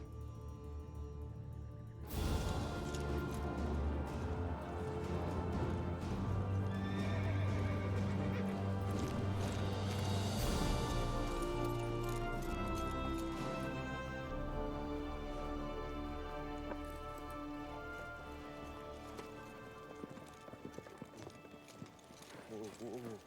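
A horse whinnies and hooves clip-clop across a busy, layered mix of ongoing sounds, with voices talking throughout, in a Western film.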